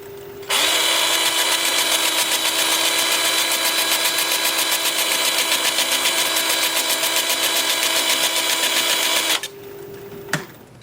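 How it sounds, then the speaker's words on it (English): A power sanding disc runs steadily against a turned wooden piece on a lathe, a loud continuous whir with fine rhythmic pulsing that stops abruptly near the end, followed by a brief knock. "And then the sanding disc."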